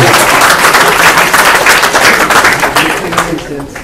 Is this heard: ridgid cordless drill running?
no